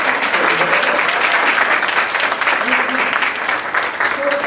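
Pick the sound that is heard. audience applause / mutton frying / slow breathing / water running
audience applause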